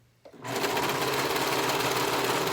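A sewing machine starts up and runs in a steady, continuous whir as it stitches along the bodice of an Eden shirt, close and loud throughout, with no voices.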